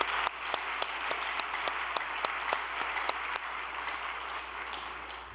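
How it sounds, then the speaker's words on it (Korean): Gathered congregation at a Korean religious address claps in thanks, a moderate, fairly distant applause with a few sharper individual claps standing out at a steady rhythm. "감사의 박수 한번 드립시다"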